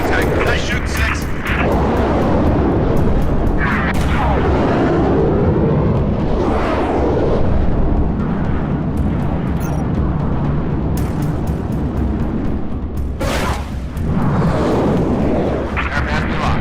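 Heavy, constant weapon fire and explosions from enemy Seraph fighters in Halo Reach's Long Night of Solace mission, a dense, loud roar with sharper blasts mixed in and a voice speaking over the barrage.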